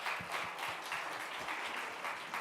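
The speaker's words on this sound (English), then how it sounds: "Can we give them a big round of applause?" A conference audience at a hepatitis summit in Chennai claps continuously. The applause is fairly faint and distant, with a steady, dense texture.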